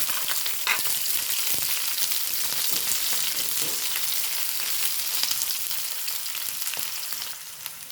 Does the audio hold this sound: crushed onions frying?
yes